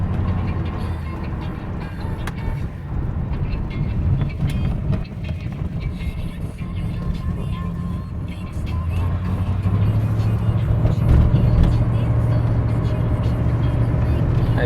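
1986 Mercedes-Benz SL560 with a 5.6-liter V8 and 4-speed transmission accelerating at quarter to half throttle, a steady low engine drone rising in pitch and loudness toward the end, with wind buffeting the microphone.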